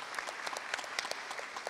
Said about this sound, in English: Give him a round of applause for his service for years and years.